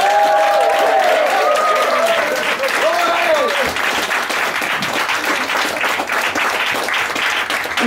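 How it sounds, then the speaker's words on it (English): A live comedy-club audience at a Bright Club Dundee show bursts into loud, sustained applause and cheering, dense clapping filling the room with whoops and shouts over the top, steady throughout. "Please start clapping and start cheering"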